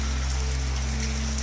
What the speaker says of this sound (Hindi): सारी रात बारिश होती रही है